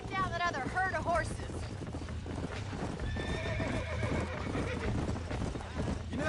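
Horses in Red Dead Redemption whinny twice, high and close, over a busy stretch of clip-clopping hooves and rushing ambient noise, with a voice faintly underneath.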